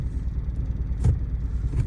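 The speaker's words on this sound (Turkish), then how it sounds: "Arabayı çalıştırdık." An old-body Toyota Corolla idles from inside the cabin, a steady low engine rumble with a couple of faint brief bumps over it and no one speaking.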